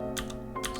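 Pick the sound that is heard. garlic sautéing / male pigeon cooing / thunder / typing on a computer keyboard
typing on a computer keyboard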